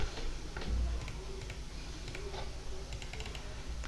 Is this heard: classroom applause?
no